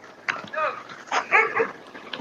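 A dog barks a few times in short bursts at moderate distance, with yips and a whimpering edge, heard indoors near a house.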